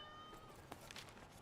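A house cat gives a couple of brief, faint meows in a quiet indoor room, the soft calls rising over a low background hum.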